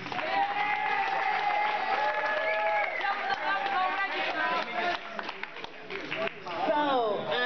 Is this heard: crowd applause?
yes